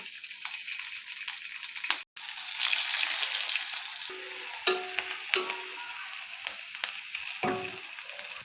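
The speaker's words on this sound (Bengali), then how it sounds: "আমার মা একদম পাক্কা রাঁধুনির মতো কোড়াই ঘোরাচ্ছে" A spatula scrapes and clanks in a sizzling wok, with steady frying hiss and a few sharp metallic taps, close by.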